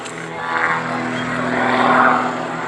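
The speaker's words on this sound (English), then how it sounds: "And now up for synchronized torque rolls. Climbing vertically and rolling on the way up." Propeller aerobatic aircraft flying synchronized torque rolls at an airshow, climbing vertically, give a sustained droning engine tone that swells and fades slightly, heard from a moderate distance.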